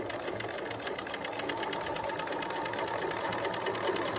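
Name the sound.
sewing machine stitching seam binding tape on a mask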